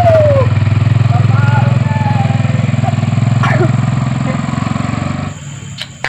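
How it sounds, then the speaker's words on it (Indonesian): A new motorcycle engine runs close by with a steady, throbbing rumble for about five seconds, then cuts off abruptly near the end. "Ini motor anyar"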